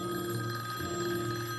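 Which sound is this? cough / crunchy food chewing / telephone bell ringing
telephone bell ringing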